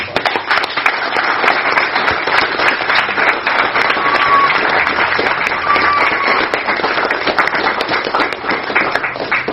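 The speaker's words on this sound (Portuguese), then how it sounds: "Vamos aplaudir papai." A church congregation at a Wednesday worship service applauds with steady, dense clapping that fills the room, loud and sustained throughout, with faint voices underneath.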